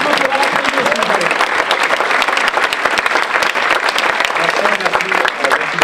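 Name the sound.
audience applause at awards ceremony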